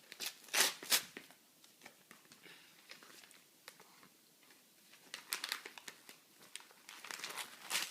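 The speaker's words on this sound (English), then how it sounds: "Keep opening it. Keep ripping." Child tearing wrapping paper off a present, bursts of crinkling and ripping paper close by, loud flurries at the start and again toward the end with quieter rustling between.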